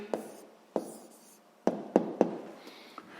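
A pen writes out an answer to a sixth-grade maths exercise in a quiet room, with several short scratchy strokes and taps spaced irregularly and close to the mic, alone without talk.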